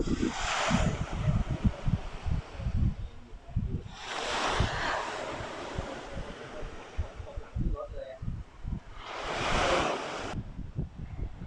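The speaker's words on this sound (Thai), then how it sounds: "วันนี้เราเก็บภาพบรรยากาศ ของชายหาดที่แห่งนี้ก่อนนะครับ" Surf washes onto the sand at Kinaree Beach in Thailand, with three broad waves breaking roughly every four to five seconds over steady wind noise and a low rumble.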